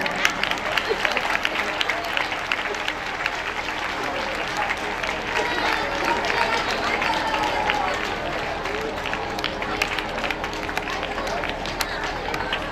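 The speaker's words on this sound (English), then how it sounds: "Students, clap your hand." Students clap together at a school Saraswati Puja program, a steady, dense wash of applause from a crowd held at an even level throughout, with voices mixed into the noise.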